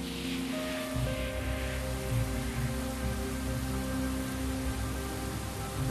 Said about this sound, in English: So with heavy clouds comes heavy rain.